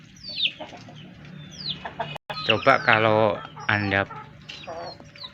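A chicken clucks repeatedly in short, sharp bursts, close by, while someone talks over and between the calls.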